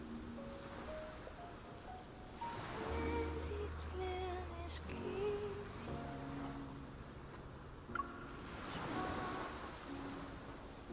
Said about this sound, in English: Faint moonlight spills over the pitch-black sea, carrying an ethereal chant from afar.